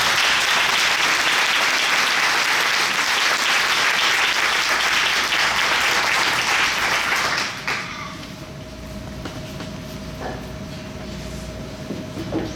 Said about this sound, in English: So I think we need to give them all a round of applause.